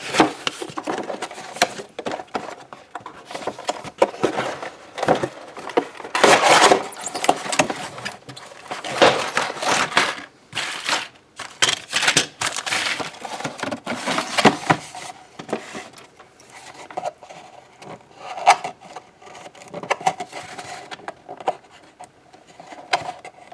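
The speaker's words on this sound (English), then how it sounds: "Just cut these pieces here." Plastic parts being snipped from the sprues of a Maisto 1:24 Lamborghini Terzo Millennio model kit, a run of close, irregular scratchy cuts and rubbing handling noises with brief pauses between bursts.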